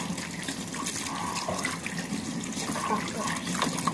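Tap water running steadily for washing, a constant close splashing gush into a basin, with a person speaking briefly over it.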